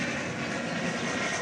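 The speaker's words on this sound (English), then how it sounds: "There's one final look at the Korean Air Dreamliner headed to its" A Korean Air Boeing 787 Dreamliner taxis at Dallas/Fort Worth Airport toward a parking spot at Terminal D, giving a steady broad jet-engine roar at moderate distance.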